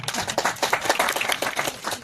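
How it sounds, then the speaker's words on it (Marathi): An audience claps at a popular science lecture, a dense patter of many hands at moderate loudness, steady and brief with no speech. "सगळ्यात पहिलं तुमच्या सगळ्यांसाठी जोरदार टाळ्या वाजवा"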